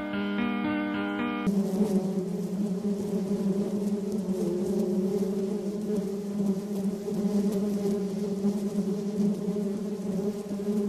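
A thick, droning buzz like swarming bees runs beneath sustained synth tones in bee- and beekeeping-themed dungeon synth music, following a short keyboard melody at the start, steady and loud throughout.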